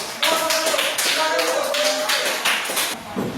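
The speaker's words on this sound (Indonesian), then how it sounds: "Aplaus untuk" Applause for a student group presenting in a classroom, a steady round of close, lively clapping and tapping from many hands lasting a few seconds, with faint voices underneath.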